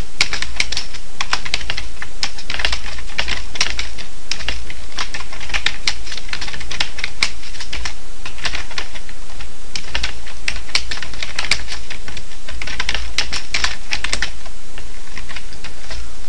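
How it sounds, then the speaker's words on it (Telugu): Fingers type rapidly and without pause on a computer keyboard, a dense, even clatter of close keystrokes lasting the whole stretch with no talking. "టైప్ చేస్తున్నాను"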